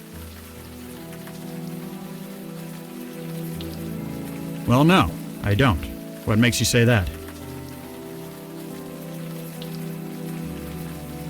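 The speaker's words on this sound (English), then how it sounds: "The rain isn't helping, that's for sure." Steady rain hiss in the video game Unavowed, a soft even wash running under a brief spoken exchange between characters in the middle.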